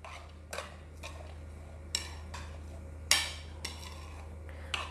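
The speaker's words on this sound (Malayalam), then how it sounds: "ഇനി നന്നായിട്ടൊന്ന് മിക്സ് ചെയ്തെടുക്കാം." A spoon mixing chopped ingredients with salt and ginger in a bowl: sharp, separate clinks and scrapes against the bowl at an irregular pace over a low steady hum, with no talking.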